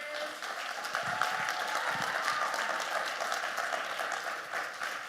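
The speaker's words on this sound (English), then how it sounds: "Everybody, give another round of applause for Karen." Sustained audience applause at a keynote talk, a dense, steady wash of many hands clapping that holds at an even level throughout, moderately loud with no speech over it.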